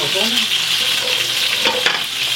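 Small grelot potatoes and carrots being turned and salted in a hot pan, giving a close, continuous sizzle with scraping stir strokes and a couple of brief clacks near the end.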